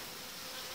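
Honey bees buzzing at an open hive while a partition grid is removed during the merging of two colonies, a steady dense hum with no break, close and fairly quiet.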